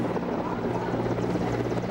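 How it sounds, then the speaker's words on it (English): Helicopters pass low over a Republic Day parade, and their steady, dense rotor drone fills the air throughout at a loud, constant level. "Those are the helicopters which mark the commencement of the parade."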